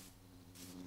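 A bee buzzing in the video game Minecraft, a faint, steady droning hum that swells slightly toward the end, heard alone.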